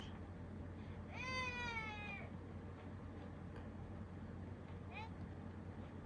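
A cat in a video game gives one drawn-out meow, then a shorter faint one a few seconds later, over a constant low hum.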